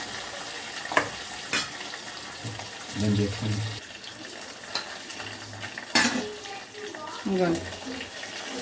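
Tomatoes go into a pan and are stirred for coriander tomato chutney, with a soft sizzle beneath intermittent clinks and scrapes of a spoon against the pan.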